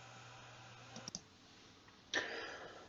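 Faint computer mouse clicks in a quiet room: a quick close pair of light clicks, followed later by a brief soft rustle against low background hum.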